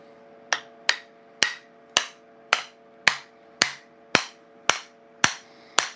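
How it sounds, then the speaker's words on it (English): A hammer strikes in an even rhythm in a knife-making shop, about eleven sharp ringing blows roughly half a second apart, each with a brief metallic decay. "I'll find my hammer."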